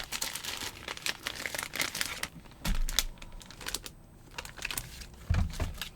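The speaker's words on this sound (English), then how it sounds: "we're just going to go ahead and drop some of this excess tape in here" Excess tape being crumpled by hand and dropped into a storage container, a close, steady crinkling with a few louder rustling bursts and soft thuds.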